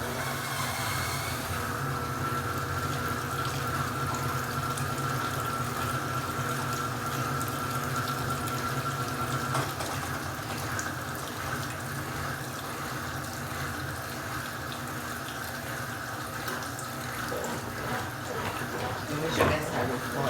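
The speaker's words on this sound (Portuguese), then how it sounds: "Deixa eu colocar um pouco mais de água aqui." Water pours steadily into a washing machine tub, a continuous rushing and splashing fill sound that lasts throughout, with faint background noise.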